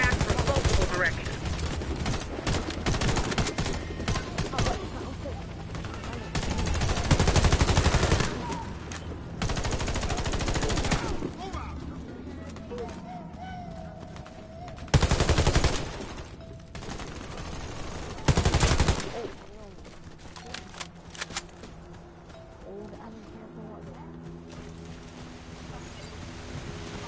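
Heavy machine gun fire in a video game, loud sustained bursts separated by quieter gaps, with a voice speaking between volleys and softer ambient game sound toward the end.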